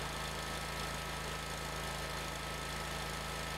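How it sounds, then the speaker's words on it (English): A GrandStand riding lawn mower engine idles in a steady, even drone with a low, regular pulse that holds unchanged throughout. "When the engine starts, release the key."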